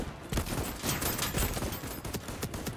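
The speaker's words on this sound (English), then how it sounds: "Calm yourself with a freaking machine gun." Rapid machine gun fire in the video game Voidtrain rattles in a dense, continuous burst of shots, fairly quiet in the mix.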